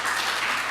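Church congregation clapping for a member's solo debut, a dense, steady patter of hands filling the room for a brief moment with no voices over it.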